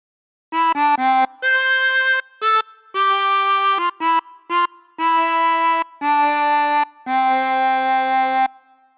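A chromatic harmonica plays a phrase of Joy to the World, a run of clear reedy notes, short ones and longer held ones with brief gaps between, close and alone.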